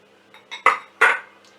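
Flour, oats and caster sugar mixed together in a bowl, a few quick close clinks and scrapes of a utensil against the bowl, two sharper knocks in under two seconds, with no talking.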